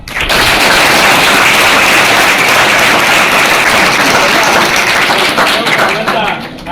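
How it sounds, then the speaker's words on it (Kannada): Audience applause at a nursing and paramedical college event, loud, dense and steady clapping lasting the whole stretch without pause. "ಹೊಡಿಬೇಕು ಚಪ್ಪಾಳೆ ನೀವೆಲ್ಲ"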